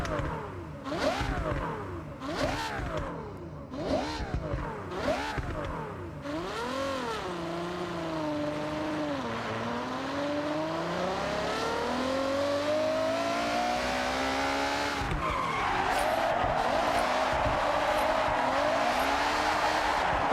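A drift-tuned Ferrari in the Forza Horizon 6 racing game revs hard in rising and falling sweeps, then holds a long climbing engine whine before its tires break into a loud sustained squeal and skid.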